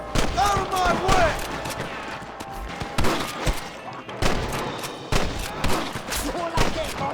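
Heavy gunfire in the video game Red Dead Redemption, with loud repeated shots and volleys cracking over a busy battle mix, and voices calling out between the bursts.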